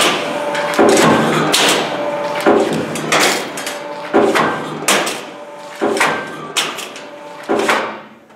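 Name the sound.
sheet metal shear cutting small strips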